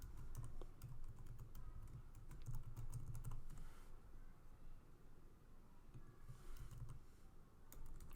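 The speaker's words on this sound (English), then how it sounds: "One second, let me type again." Fingers type on a computer keyboard in quick, irregular bursts of close, faint key clicks, with a brief pause midway and no talk.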